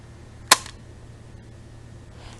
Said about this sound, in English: I am going to turn off the tape deck at this point.